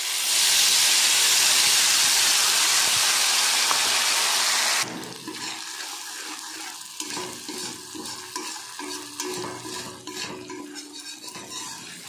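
Ground spice paste hits hot oil spiced with asafoetida for a soya bean curry, erupting in a loud, dense sizzle for about five seconds, then settling into quieter frying under the steady scrape and clatter of stirring.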